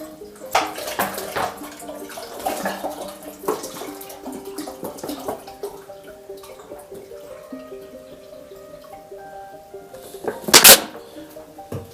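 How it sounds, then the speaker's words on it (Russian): Water glugs from a 2-litre bottle into a metal pot for making homemade honey mead, a close splashing pour in uneven bursts with clinks and a louder gush near the end, no talk. "Ну, воду, естественно, я буду отмерять бутылкой."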